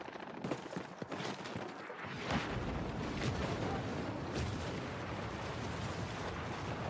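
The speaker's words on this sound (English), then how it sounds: "Was that a mortar shell that just landed next to me and broke the building?" A mortar shell explodes right beside a building in Battlefield 6, a loud booming blast followed by a sustained rumble of crumbling debris and battlefield noise, no talking.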